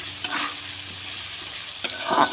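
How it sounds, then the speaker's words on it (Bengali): Potatoes frying in a pan and being stirred, a brief close sizzle broken by a few scraping strokes of the spatula, with no voices. "আলুটা একটু ভাজা হোক।"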